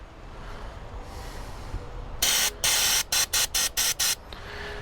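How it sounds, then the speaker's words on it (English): Throttle body cleaner sprayed onto a rag during maintenance on a Promaster City van at 100k miles: several loud aerosol bursts, one long hiss followed by a rapid series of short sprays, close up over a quiet background. "Hold your butterfly valve open and just take a rag spray it on the rag."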